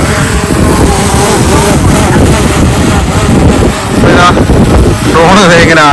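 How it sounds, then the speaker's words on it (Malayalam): A DJI Mini 4 Pro drone takes off and hovers, giving a loud, steady high-pitched propeller whine with a rising pitch sweep near the end, close by with wind noise over it. "ഡ്രോൺ ഇതാ പൊങ്ങി"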